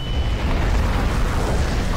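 A bomb blast in the video game Garry's Mod comes through as a loud, sustained low rumbling roar that fills the whole moment without letup, with no voices over it.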